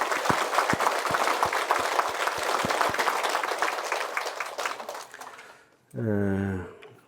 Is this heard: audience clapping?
yes